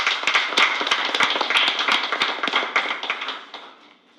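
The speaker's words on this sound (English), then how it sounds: "just give an applaud to them" Applause for students at a Board of Education meeting, a modest room full of people clapping in brisk, distinct claps that fade out toward the end.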